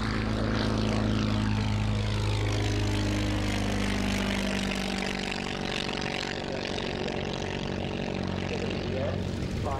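Minier propeller aeroplane of the Shuttleworth Collection, an aerobatic machine, flying past with a loud, droning engine and buzzing propeller whose pitch sweeps downward as it passes, while a voice talks over the noise.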